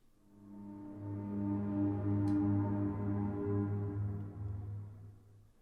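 A synthesized ambient pad played dry with no effects, a heavy, droning low chord that swells in, holds steadily for several seconds and fades, quiet and alone without any voices.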